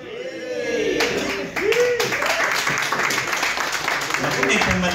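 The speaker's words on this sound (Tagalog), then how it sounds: "Naku, may pumalakpak pa." A few people clap during a Philippine party-list campaign event, a moderate spatter of applause that swells and fades under ongoing talk and excited voices.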